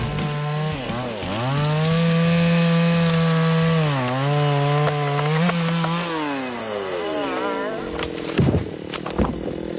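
A chainsaw cuts timber during tree felling by a national forest logging crew in Korea. The engine revs loud and close, pitch rising and falling under load, then trails off into wood cracking and crunching noises.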